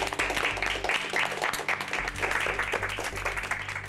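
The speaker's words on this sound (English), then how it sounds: "Give yourselves a huge round of applause." Contestants and crew applauding after a baking competition challenge, a steady dense round of clapping throughout with faint voices underneath.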